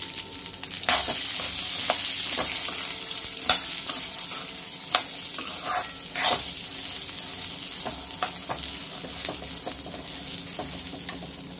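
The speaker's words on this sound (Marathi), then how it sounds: "आता त्याच तेलामध्ये मी दाणेसुद्धा भाजून घेते" Peanuts roast in oil in a pan, a continuous sizzle broken by repeated sharp scraping and clacking stirs, close and fairly loud, with no talk.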